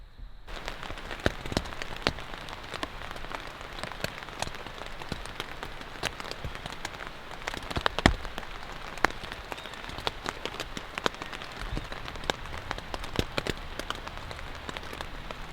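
Steady rain falling on a forest campsite by a river, dense patter with sharp individual drops ticking close by on a surface, continuous and even, with no voices.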